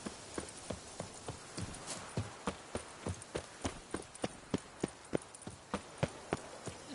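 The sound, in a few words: horse galloping hooves in video game The Witcher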